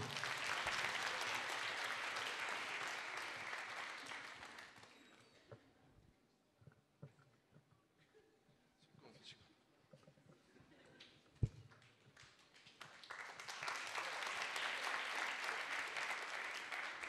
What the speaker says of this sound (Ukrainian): Підтримаємо оплесками, друзі.